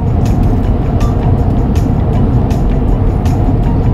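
V8 Hemi car coasting down a Rocky Mountain grade in Colorado, a loud steady road and engine roar from inside the cabin with faint intermittent clicks and no talk.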